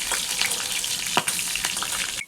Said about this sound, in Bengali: এদিকে ভালো করে নেড়ে একটু ভাজা করে নিচ্ছি।